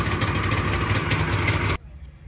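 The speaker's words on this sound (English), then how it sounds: "Got a bit of a high idle, fix that tomorrow when we go ride it on snow." A 25-year-old snowmobile engine idles high with a steady, close mechanical putter and clatter, then cuts off abruptly near the end, leaving quiet.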